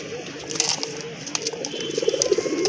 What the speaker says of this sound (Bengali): এটা হচ্ছে আরেকটা পেয়ার গোলা কবুতরের অরিজিনাল পিওর দেশি কবুতর